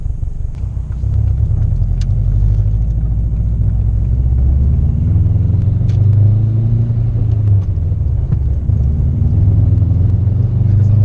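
Subaru Impreza RSTI, a 2.5RS swapped to an EJ207 engine, drives on an open road with a steady, loud low engine rumble and road drone that holds throughout, without talk.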